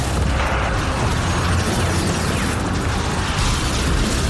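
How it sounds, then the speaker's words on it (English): Sci-fi energy blasts and explosions rage in an audio drama battle against alien attackers, a dense, loud, continuous barrage of booming bursts and crackling impacts with no speech. "Energy blasts collide with alien attackers, followed by another explosion."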